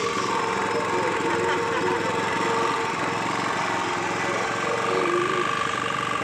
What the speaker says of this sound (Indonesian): Kita tes hidupkan mesinnya.